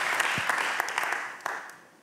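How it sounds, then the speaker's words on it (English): Audience applause for a speaker at a design talks event, a dense wash of clapping that holds steady then thins and fades toward the end, with no voices over it. "So can I get one more really, really loud applause for Sikonor all the way in the USA?"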